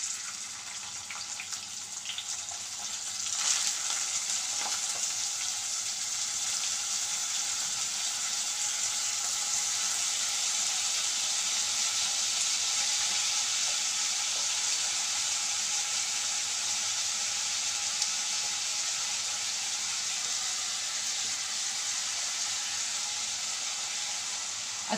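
Rice fried with spices in a pan for shahi pulao gives a steady, even hiss that runs unbroken for the whole stretch, with a brief clatter as it is stirred early on.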